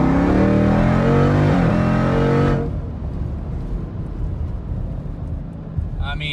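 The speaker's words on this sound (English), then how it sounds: "I'm just gonna ease into the throttle here." Supercharged green Jeep Grand Cherokee Trackhawk accelerating hard, a loud rising engine roar for two and a half seconds before it drops to a lower cruising rumble with road noise.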